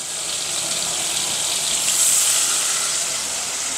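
Garlic paste fries in butter in a pan, giving a steady, even sizzling hiss that holds at a fairly loud level throughout, close up.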